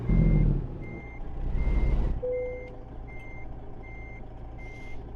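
Truck reversing beeps repeat steadily in American Truck Simulator while a truck backs a trailer into place, over a low engine rumble and a brief air-brake hiss near the start.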